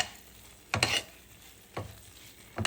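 A spoon stirs a coconut barfi mixture with green cardamom powder in a pan over medium-low heat, three short scraping strokes against a faint sizzle, close and distinct.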